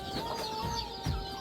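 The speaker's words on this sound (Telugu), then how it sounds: "మా కోడి తెల్ల కోడి అయితే పిల్లలు చేసింది" A white hen clucking softly beside her newly hatched chicks, a first-time mother that has hatched thirteen chicks, with low clucks repeating under faint thin peeping and a steady tonal background hum.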